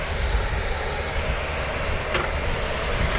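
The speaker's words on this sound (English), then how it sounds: "Lovely view here of the Emirates taxiing past." An Emirates Airbus A380 airliner taxis past at Manchester Airport, its jet engines producing a loud, steady, broad roar that holds evenly throughout with no breaks.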